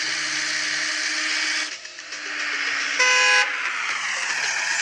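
A vehicle horn in a construction simulator video game honks in a short, loud, tonal blast over a steady engine drone, which briefly drops before the horn sounds.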